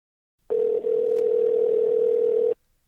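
A steady telephone dial tone sounds for about two seconds before a speakerphone call, a single continuous hum with a tiny dropout near its start, then silence.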